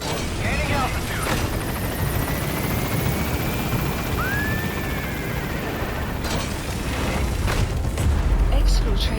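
Helicopter rotor and engine roar in the video game Metal Gear Solid V as it climbs away, a loud steady wash with a rising whine, near and continuous, with occasional booms and gunfire behind.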